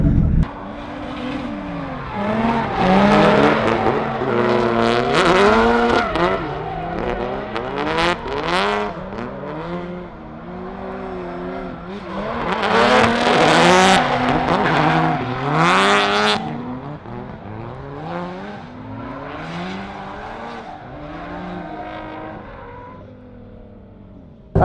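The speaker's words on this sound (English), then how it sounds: "I'm doing some shakedowns in S15 now on the skid pad with the Zeknova 140 treadwears." A 900hp Nissan S15 drifts on a skid pad on 140-treadwear tires, engine wailing and revving in waves with sustained loud tire squeal, surging twice, then easing off toward the end.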